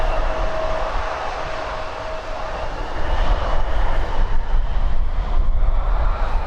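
An Emirates airliner departs Birmingham Airport, a broad, steady jet engine roar that swells louder and rougher midway, then holds as a close, sustained rumble.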